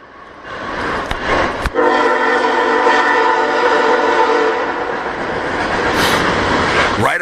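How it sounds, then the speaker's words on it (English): A train passes close by in Bogotá, a loud sustained horn-like tonal blare over rumbling wheels and track noise for several seconds, with brief clicks and rising rail clatter at the end. "ooh, here's a train."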